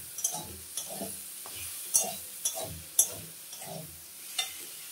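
Cumin and other paste ingredients frying in mustard oil, with repeated stirring scrapes about every half second over a faint sizzle.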